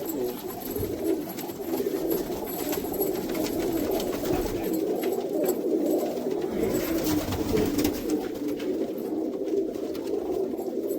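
Pigeons cooing steadily at a pigeon keeper's loft in America, a dense, continuous low murmur of many birds close by with no talk.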